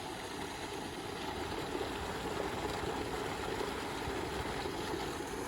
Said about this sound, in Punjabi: ਆਪਣੇ ਵਾਲੀ ਮੋਟਰ ਚੱਲੀ ਜਾਂਦੀ ਇਹਨਾਂ ਦੇ